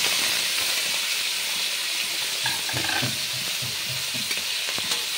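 Prawns sizzle steadily in hot mustard oil in a wok, a dense, continuous frying hiss with faint stirring knocks, close and even throughout, with no talking.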